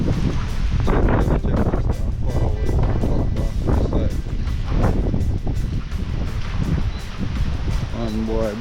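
Strong wind from Hurricane Rafael in Jamaica buffets the microphone in loud, continuous gusts amid rain and flooding, roaring close throughout while someone speaks briefly over it.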